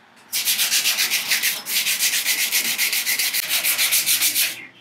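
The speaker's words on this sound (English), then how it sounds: "just a light sanding around where that tape was in case any resin was up against it" Rapid back-and-forth hand sanding strokes on cured resin rasp close up in a quick, even rhythm, a short pause midway before the scratchy rubbing resumes.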